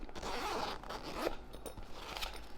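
A zipper is drawn along the back of a Humanware Prodigy Connect 12 case, giving a quiet, close, steady rasping pull that lasts a couple of seconds.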